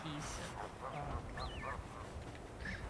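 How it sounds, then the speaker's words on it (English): Geese honk in the Blanc video game, a few short nasal calls rising over soft game music, with a person talking at moderate volume throughout. "they introduced geese and now I just want everything to die"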